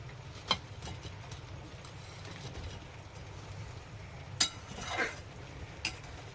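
Koftas are dropped into a pot of boiling curry gravy, giving a few soft plops and clinks that stand out over a low, steady bubbling simmer.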